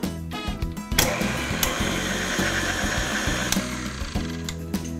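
An electric mixer whirs steadily through brown sugar and butter cookie dough for root beer float sandwich cookies, close and continuous with a few clunks as the beaters knock the bowl.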